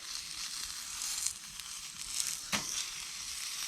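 A chunky sirloin steak fries in a pan at a wild campsite by a castle, giving a steady, fairly close hiss of sizzling fat with a few sharper crackles and pops.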